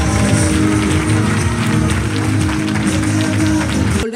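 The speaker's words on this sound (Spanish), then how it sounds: "aplauso." Applause from the audience at the opening of CIMA 2023, a dense, loud and steady wash of clapping that fills the whole span and then cuts off abruptly at the end.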